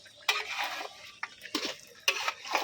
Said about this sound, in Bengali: আলুটা দিয়ে আবার আমি ভালোভাবে তরকারিটা কষাই নিব